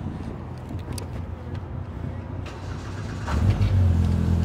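A Polaris Pro R side-by-side engine cranks and catches at the end, settling into a loud, deep steady idle after a stretch of quieter background noise.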